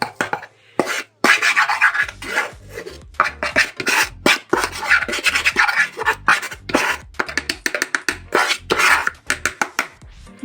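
A spoon stirs a homemade instant coffee mix of powdered milk, creamer powder and ground instant coffee, making repeated close scraping and rasping strokes in quick irregular bursts, with no speech.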